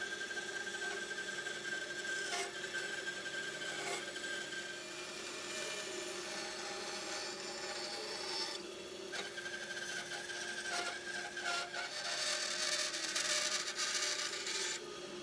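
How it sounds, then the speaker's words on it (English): A bandsaw cuts and shapes rough wooden utensil blanks in a workshop, giving a steady close whine and rasp that runs throughout, swelling and easing slightly as the wood is fed through the blade. "it's time to start sort of shaping them on the bandsaw"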